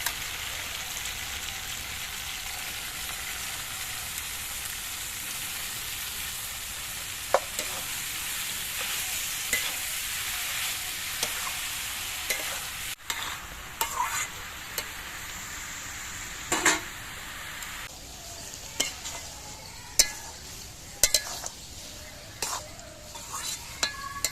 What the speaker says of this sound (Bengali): কপিগুলোকে নাড়াচাড়া করতে করতে দেখুন অনেকটা পাক উঠে এসছে